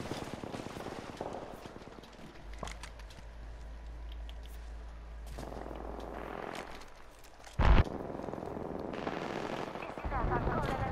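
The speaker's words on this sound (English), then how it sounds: "The gunshots in this game are pretty crisp" Video game gunfire from Apex Legends: scattered bursts of shots and a sharp loud blast near the end, mixed with rumbling ambience and game effects.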